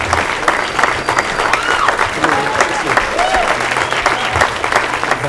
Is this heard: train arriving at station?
no